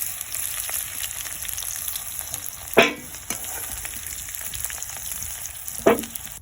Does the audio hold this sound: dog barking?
no